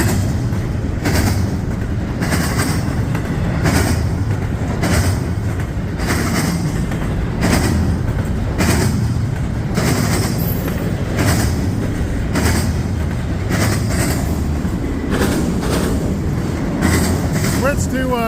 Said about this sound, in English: Maybe Pacific DPU in the middle. It's working hard.